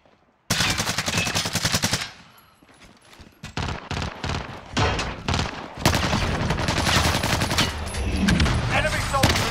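Hostile automatic gunfire in Call of Duty Warzone, with a PM63 machine pistol in play: a long rapid burst, a quieter gap, then scattered loud shots and sustained heavy firing.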